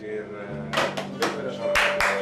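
A handful of sharp hand claps from a TV talk show studio audience in a short burst, close and distinct, with voices talking underneath.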